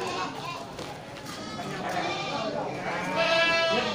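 Billy goats ready for slaughter bleat amid the busy chatter of an Indonesian livestock market, with a few overlapping animal calls rising near the end under steady crowd talk.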